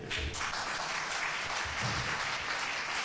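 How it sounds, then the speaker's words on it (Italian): Audience applause at an Italian public meeting on interreligious dialogue, a dense, steady patter of many hands clapping throughout, fairly quiet and distant. "L'applauso lo facciamo al Don Gian perché"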